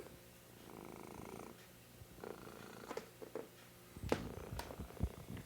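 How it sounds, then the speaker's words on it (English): A kitten purrs steadily up close, a low rumbling vibration that pulses with its breathing, joined near the end by a few louder snuffly bursts. "That's a very big purr."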